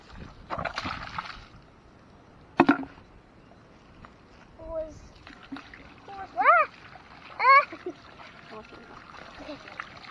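Water sloshes and splashes in a dirty tub as it is cleaned out by hand, scattered close splashes and drips between quiet stretches, with a voice briefly heard.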